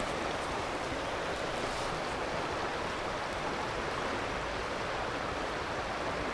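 A river streams steadily along a trout fishing stretch, a constant broadband rush of flowing water close by with no voices, heard while walking downstream.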